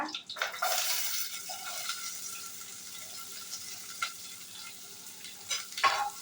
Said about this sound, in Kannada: ನೀರುಳ್ಳಿ ಎಡ್ಡೆ ಫ್ರೈ ಆಗೋದು